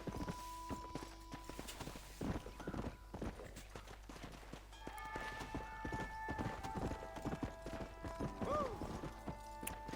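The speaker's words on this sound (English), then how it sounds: "It's hard turning the horse in this game." Horse hooves clip-clop at a steady quick pace in Red Dead Redemption, with a brief whinny, over game ambience and a few faint tones. The sound is close and moderately loud.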